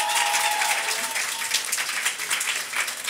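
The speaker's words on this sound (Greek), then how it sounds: "Δώστε ένα χειροκρότημα" Studio audience at a Greek comedy podcast show applauding as a guest is introduced; dense, steady clapping throughout, fairly close and loud, with no talking over it.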